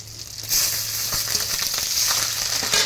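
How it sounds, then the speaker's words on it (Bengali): Cumin seeds, cardamom pods, bay leaf and green chilli sizzle steadily in hot oil, a close, continuous frying hiss that swells after a moment and stays busy with small crackles. "হালকা ভাজা হলে এবার আমি জিরা দিয়ে দিলাম, এলাচ দিয়ে দিলাম।"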